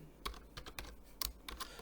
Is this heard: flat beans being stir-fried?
no